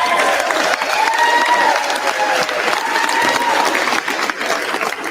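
Loud applause in a legislative chamber, dense clapping mixed with crowd cheers and some voices calling out, sustained throughout.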